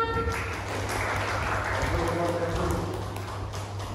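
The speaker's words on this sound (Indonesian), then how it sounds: "Tepuk tangan." A group claps hands together on command in a room, a steady dense patter of clapping lasting several seconds, with a low hum underneath.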